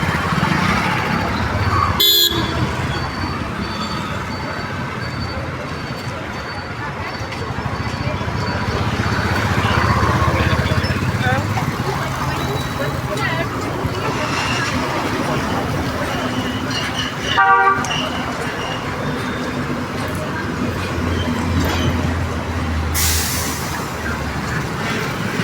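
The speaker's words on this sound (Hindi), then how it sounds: "देखिए दोस्त जो कि रोड पे गाड़ी का कितना जाम चल रहा है।" Dense road traffic jam on a village street in Jharsa, Gurugram Sector 39, with car horns honking off and on over a steady engine rumble, and voices talking nearby throughout.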